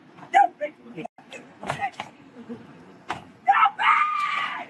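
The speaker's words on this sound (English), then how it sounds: "It is genuinely impressive how she is able to scream this loud, be this angry, without, like, passing out" A woman screams angrily in short, loud bursts that build into one long strained shriek, with car and door noises behind her during a roadside confrontation.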